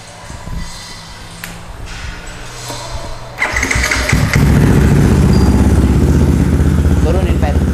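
A Yamaha WR 200cc dirt bike engine cranks and catches, then settles into a loud, close, rough idle with clattering mechanical noise, after faint background voices at the start.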